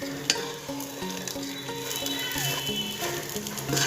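Soaked, drained basmati rice stirred in a hot pan for matar rice, a steady damp sizzle with scraping strokes running throughout, close and moderately loud, with a short sharp knock near the start.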